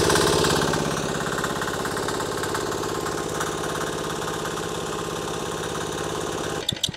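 Diesel engine fuelled with vegetable oil cranking and running roughly, a steady loud mechanical chug with knocking pulses that sputters and cuts out near the end.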